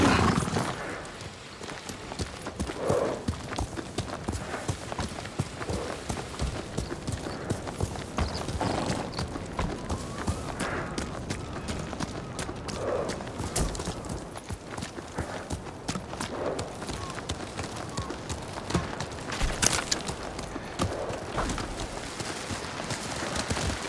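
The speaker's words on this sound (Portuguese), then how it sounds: "Cavalo!" Horse hooves clip-clop in a quick, steady galloping rhythm throughout in Ghost of Tsushima, close and continuous, with faint occasional other sounds.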